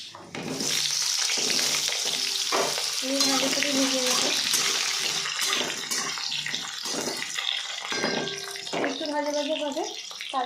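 Potatoes hit hot oil with bay leaves and five-spice seasoning, producing a loud, steady sizzle with bursts of crackling and occasional stirring or clinking, with a voice speaking over parts of it.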